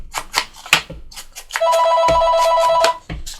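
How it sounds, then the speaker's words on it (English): A telephone rings with a bright electronic tone, one sustained burst heard over scattered nearby handling noises. "Phone ringing."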